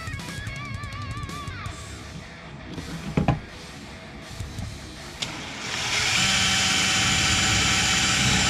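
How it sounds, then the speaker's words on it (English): Power drill boring out spot welds on the manual transmission tunnel of a 1987 Chevette, a whining motor with sharp metallic bites, then a louder steady drilling roar close up. "So I drilled all the spot welds off of the manual column, the manual tunnel there"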